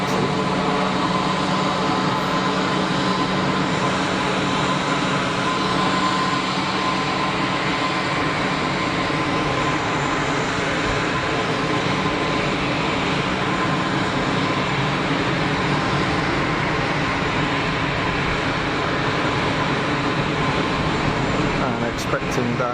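Airbus A321 and A320 airliners at Geneva Airport, heard as a constant, loud jet-engine drone and whine of idling and taxiing aircraft that holds steady throughout.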